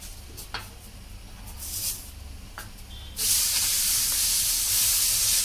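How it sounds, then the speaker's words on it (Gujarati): Semolina uttapam batter hisses in oil on a hot pan, soft crackles giving way to a loud, steady, close sizzle that swells midway and holds to the end. "હવે આપણે એના ઉપર થોડું તેલ નાખી દઈશું."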